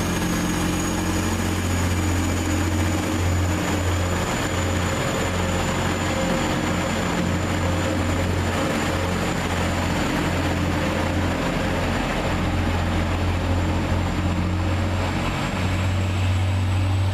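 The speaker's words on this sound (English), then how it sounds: "Here comes my train to Newark" A train, the 0643 service to London King's Cross, arrives at a platform on the way to Newark. It makes a steady, loud low rumble with an engine hum and a faint high whine that holds for around seventeen seconds, with no voices.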